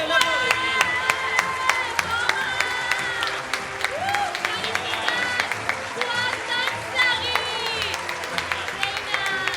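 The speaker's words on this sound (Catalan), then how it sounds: "Un aplaudiment!" A crowd at an urban dance performance during a festival awards show applauds, with rapid steady clapping, whistles and cheers, and voices talking amid the noise.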